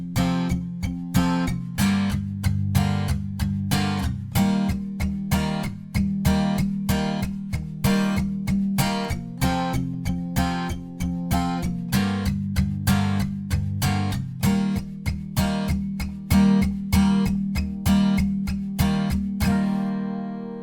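Acoustic guitar playing a song's pre-chorus with an accented all-down strumming pattern, once per chord: a steady run of sharp downstrokes with periodic louder accents, close and unaccompanied, ending in a brief ring-out.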